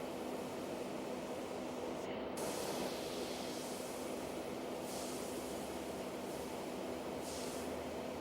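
Airbrush spraying paint onto a motorcycle, a steady close hiss of compressed air running continuously with slight pulses in intensity.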